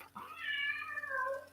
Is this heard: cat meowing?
yes